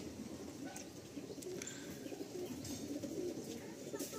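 High-flying Mukho Kalsira pigeons coo softly in the background, low and continuous with a few faint chirps, the whole scene quiet and distant.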